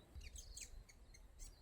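Small birds chirping among native trees around a secluded bay, a few faint, short high tweets in quick succession over a soft, quiet background.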